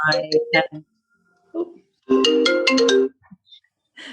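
A mobile phone ringtone rings out in bursts of bright chiming melody, loud and close in an otherwise quiet room, with a pause between phrases.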